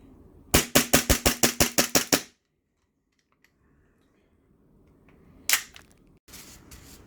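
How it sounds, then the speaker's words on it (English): A Tokyo Marui M&P9 gas blowback airsoft pistol fires a quick string of about ten sharp, evenly spaced cracks up close, then silence, with one more lone shot and a brief clack a few seconds later. "Gonna see how quick we can get it to cycle with successive shots."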